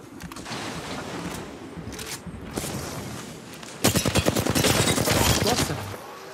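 Rapid bursts of gunfire in the video game Apex Legends crackle through the first half, then a louder, denser volley of shots rings out near the end, with no talking.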